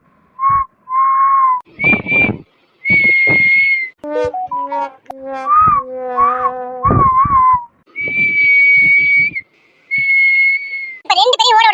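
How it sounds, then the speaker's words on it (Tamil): A person whistles to call someone outside, with a run of short, loud, piercing whistle notes and trills in separate bursts, some rising and some held steady. "என்ன விசில் அடிச்சு அவளை வெளியில வான்னு கூப்பிடுற"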